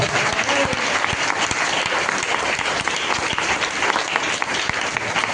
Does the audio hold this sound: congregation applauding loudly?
yes